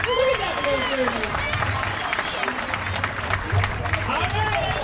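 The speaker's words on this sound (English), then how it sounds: "an even bigger round of applause for these 10 you guys" A crowd at a Little League opening day applauds the champions, steady clapping and cheering running throughout, with an announcer talking over it.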